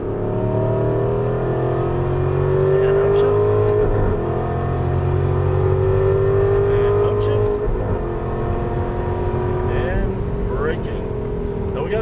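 Aston Martin V8 Vantage engine pulling hard on a racetrack, a loud steady drone with pitch rising in long sweeps through the gears, heard from inside the car with a voice talking over it.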